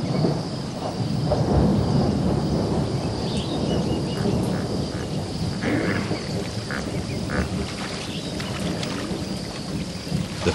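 Summer thunderstorm in the Okavango wilderness, a steady loud wash of heavy rain with rumbling thunder beneath, continuous throughout with no voices.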